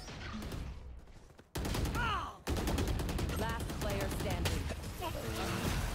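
Rapid gunfire from a Valorant match, dense bursts filling most of the stretch with a brief drop to near silence partway through, while players talk over it.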